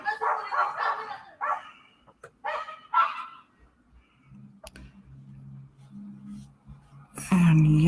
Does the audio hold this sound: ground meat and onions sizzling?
no